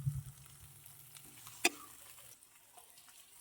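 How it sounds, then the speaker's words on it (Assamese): Pasta ingredients fry in a pan over a low gas flame, giving a soft, steady sizzle with one sharp metallic clink partway through and no talking. "এতিয়া মই ভাজি থাকিম"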